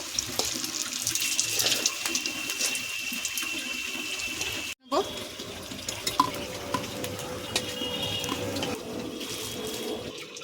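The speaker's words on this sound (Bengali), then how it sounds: "সব উল্টে দিয়েছি, লাল লাল করে ভেজে নেব।" Spinach fritters frying in hot oil in a kadai, a steady sizzling hiss with a brief gap midway, then continuing evenly with faint clinks from stirring, no talk.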